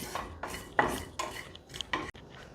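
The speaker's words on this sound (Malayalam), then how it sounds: "ഇപ്പോൾ ഇതാ ഒരു കറിവേപ്പിലേക്കൊന്ന് ക്രിസ്പി സൗണ്ട് വന്ന് തുടങ്ങി" Curry leaves crackle crisply as they roast in a pan, heard as about seven short, sharp bursts of crackling and stirring scrape at an uneven rhythm, close and alone with no talk.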